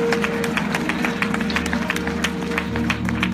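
Church congregation applauding in praise, a dense sustained patter of many hands clapping along with a held organ or keyboard tone and crowd voices.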